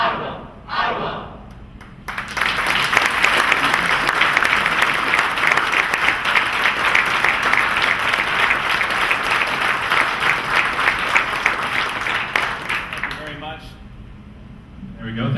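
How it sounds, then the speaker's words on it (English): Sustained audience applause for the OTHS Jazz Choir Opus 24 at an Ottawa High School Hall of Fame induction ceremony, a dense wash of clapping that swells after a brief pause, holds steady for about ten seconds and then fades. "Let's give them another round of applause."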